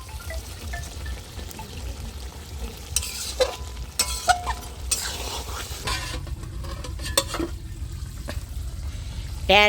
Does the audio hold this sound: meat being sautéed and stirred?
yes